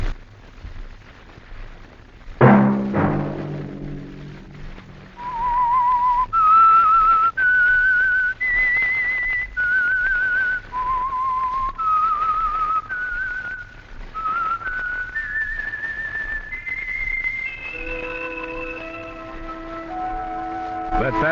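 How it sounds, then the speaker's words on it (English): A sharp gong-like strike rings out, followed by a lone whistler carrying a slow, eerie melody of held, sliding notes, the theme signal of The Whistler radio drama, ending with sustained tones underneath. "Let that whistle be your signal for the Whistler each Sunday night at this same time"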